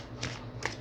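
Tarot cards are shuffled by hand, two quick riffling bursts in under a second, close and crisp against a quiet background.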